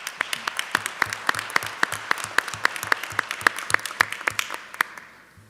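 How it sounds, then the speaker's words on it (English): A room of attendees at a school district board meeting gives a round of applause, a few seconds of steady, fairly sparse hand clapping that holds evenly, then thins and fades out at the end. "Can we get another round of applause for them?"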